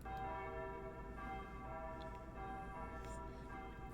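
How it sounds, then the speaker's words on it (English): Church bells ring out in front of a church, a rolling chime with sustained tones that decay into a low background hum, with a few faint ticks scattered over it. "The rolling sound of bells"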